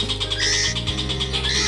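A spotted oriental magpie-robin (murai batu trotol) being tutored with recordings sings loud, close, continuous rich phrases of whistles and squawky notes layered over a steady low hum.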